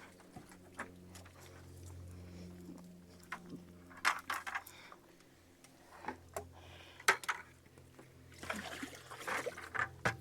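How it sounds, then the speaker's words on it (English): On a farmyard during daily chores, liquid is poured into a bowl, giving faint trickles and soft splashes that build to a fuller pouring burst near the end, with no talking. "Pour it in the bowl."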